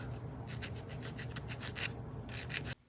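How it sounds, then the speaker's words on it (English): A metal file rasps back and forth in quick, even strokes close by, smoothing parts of a tiny HO scale model kit. The strokes pause briefly partway through and then stop abruptly. "I can file down the rest just to make that nice and smooth"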